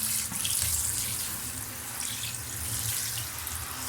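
Water from a drain-unclogging gun flushes through a drain pipe with a steady, close rushing and gurgling, like a running tap, with no voices.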